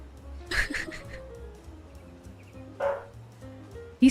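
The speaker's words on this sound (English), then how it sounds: "I have a very good guard dog." A female guard dog barks indoors at home, two sharp barks about two seconds apart, fairly close, with quiet room noise between them.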